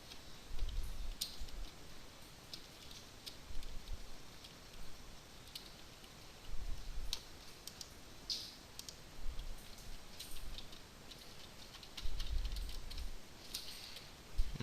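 Computer mouse clicks at a desk while working in After Effects CS6, heard as scattered sharp clicks and light keyboard-like taps, close and fairly quiet against a hiss of room noise, with no talking.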